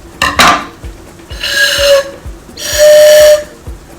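A homemade pan flute sounds two breathy, airy tones, each held about half a second at a fairly high pitch, preceded by a short clatter; no one talks.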